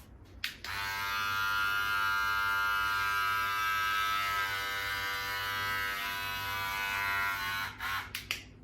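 Electric hair clippers buzz close and steady as they shave through long hair three to four inches in length, starting abruptly and running continuously before clicking off at the end.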